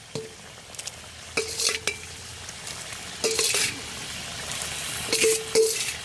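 Egg bhujia curry frying in a pan on a rainy day, a soft continuous sizzle broken by several bursts of a spoon stirring and scraping against the metal, with a voice talking between the stirs.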